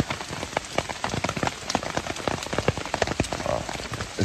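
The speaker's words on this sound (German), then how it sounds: "Ah, es regnet schon wieder." Steady rain falls outdoors at a campsite beside a castle ruin, a dense close patter of drops striking surfaces with sharper individual splats throughout, no voices.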